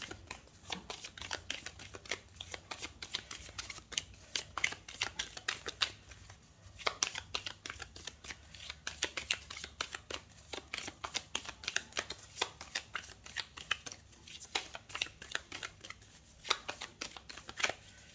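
A deck of Sibylle oracle cards is shuffled by hand in a quiet room, with rapid, crisp riffling and flicking that comes in repeated bursts and brief pauses.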